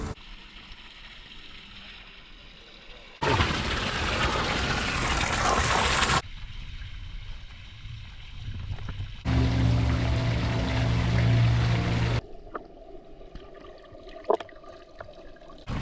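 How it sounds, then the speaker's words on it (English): Waterfall at a natural hot spring: rushing, splashing water, loud and close, heard in several cut segments of varying intensity. "There's like a waterfall that you can like soak under"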